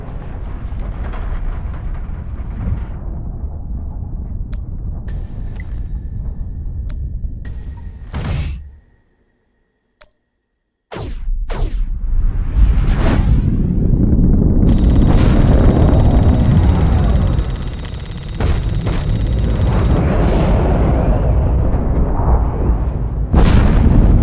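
Torpedoes launch and detonate during a space battle in The Expanse, a Telltale game: loud sustained roaring booms and rumbling blasts that fill the scene, broken by a brief near-silent gap before the explosions resume.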